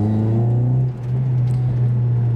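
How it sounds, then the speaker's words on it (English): A car engine fitted with polyurethane engine and transmission mounts is pushed to full throttle, giving a loud, steady droning hum with a brief dip before the note settles and holds. "Take a look at the RPMs when I put my foot to the floor."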